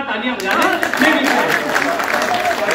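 An audience claps together at a Hindi poetry recital, a steady dense patter of hands that carries on for the whole moment with no voice over it.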